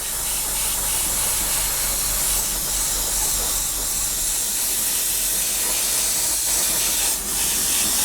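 Steady hissing mist of spray primer onto a 1/48 scale plastic model Spitfire, continuous and fairly close, with no voices over it.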